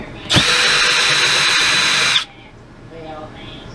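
Power drill driving screws into ceiling paneling, a loud steady motor whine that runs about two seconds and then stops, leaving a quieter hum.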